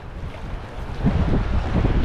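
Whitewater rushing through a river rapid, a steady loud roar and turbulent wash with wind buffeting the microphone, no voices.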